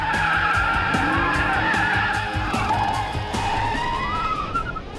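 Chase car skidding and squealing its tires while driving through a thick smoke screen during a car chase test, with a loud sustained tire squeal and engine rumble close by, fading slightly at the end.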